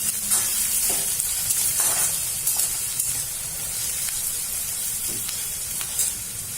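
Garlic and onions fry in a pan for kande pohe, giving a steady, close crackling sizzle with scattered sharp pops and spits throughout.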